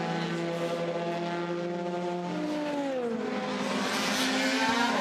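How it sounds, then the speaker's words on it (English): LMP2 prototype race cars passing during an endurance race, a steady loud engine drone whose pitch sweeps downward as the cars go by, with a continuous roar and no talk. "those are our LMP2 leaders coming through that little battle right now"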